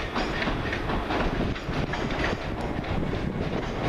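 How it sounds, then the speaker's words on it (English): A TransPennine Express train from Manchester Airport pulls into Carlisle station, a loud, steady rumble of rolling wheels and carriages with rhythmic clatter over rail joints, close and continuous throughout. "now coming in, the delayed 1911, the first Transpennine Express service from Manchester Airport through to Edinburgh Waverley"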